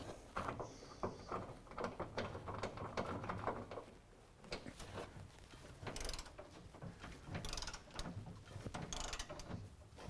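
Ratchet driving an 8 mm Allen socket on a lift kit bolt on a 2016 Chevy Silverado 1500, a run of close clicking and mechanical rattles over about ten seconds with a short lull midway.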